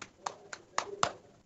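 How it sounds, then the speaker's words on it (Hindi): Children clapping during an online class lesson: a few sharp, separate hand claps in a short, uneven burst, close and clear. "तालियां बजाएंगे सभी बच्चे शुभम के लिए।"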